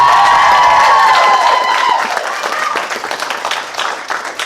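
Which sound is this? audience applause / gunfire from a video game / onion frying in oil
audience applause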